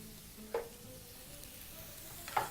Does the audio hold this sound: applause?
no